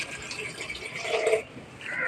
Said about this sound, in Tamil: நம்மள தண்ணி ஊற்றிக்கணும்.